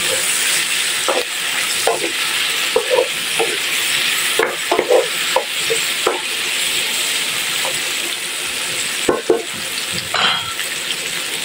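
Ampalaya with fried pork belly and tomato sizzles loudly in a pan. Repeated clacks and scrapes of a spatula tossing the mixture sound close, alone without voices.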